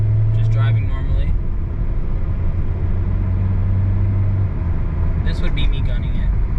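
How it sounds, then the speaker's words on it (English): A Honda Orthia's engine drones at a low, steady pitch under gentle acceleration in normal driving, with constant road rumble inside the cabin and brief higher rattling bursts near the start and end. "Here's an acceleration test. This isn't me gunning it or anything, but just driving normally."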